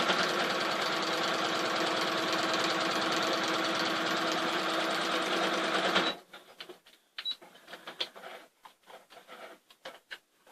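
A sewing machine runs fast and steady through quilt layers for about six seconds, a dense, even whirring rattle. It then stops, leaving scattered soft clicks and fabric handling.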